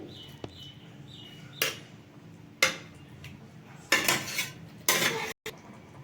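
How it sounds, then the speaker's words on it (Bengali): A spoon stirs a mixture with a little water in a bowl, scraping and clinking against the sides in irregular bursts with short quiet gaps between, close and fairly soft, with no talk. "আমি একটু জলের জলের সঙ্গে এটিকে জলটিকে ভালোভাবে মিশিয়ে নিচ্ছি"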